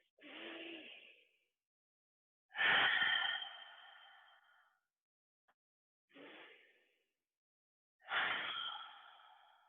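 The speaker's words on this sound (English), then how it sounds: "Inhale. Exhale. Inhale. And exhale." Slow, deep breaths during a gentle yoga session at home: four long, soft exhalation-like rushes separated by quiet pauses, close and unaccompanied.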